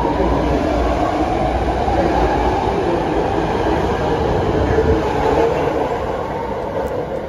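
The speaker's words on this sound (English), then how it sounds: "The train we just rode was part of the Legacy Fleet, built by Rohr in the 1970s." Steady rumbling of a BART Legacy Fleet subway train built by Rohr in the 1970s, in motion in San Francisco, a loud continuous roar of wheels and car noise that barely changes throughout.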